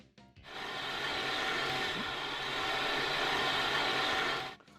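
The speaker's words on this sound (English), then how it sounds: "Loud buggers those locomotives are." Steam locomotives in the video game Transport Fever 2, a loud continuous hissing rush of steam that swells in and fades out over several seconds, with no voices.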